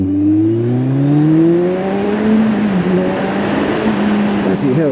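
A one-litre Kawasaki Z1000 SX sports tourer accelerates hard, its engine note climbing steadily in pitch through the revs, loud and close with wind rush building behind it.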